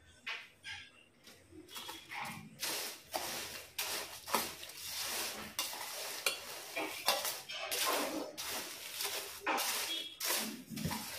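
Fried poha chivda, fully cooled, being tossed and mixed with Schezwan fried rice masala in a metal vessel, giving repeated scraping and clinking strokes in an uneven rhythm, close and moderately loud with no talking.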